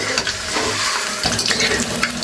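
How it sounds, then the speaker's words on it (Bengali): Eggs fry in very hot oil in a wok, giving a loud, close, continuous crackling sizzle with sharp spattering pops throughout. "কড়াইতে তেল দিছি, তেলটা এত গরম হয়ে গেছে, দেওয়ার সাথে সাথে গায়ে ছিটে আইছে।"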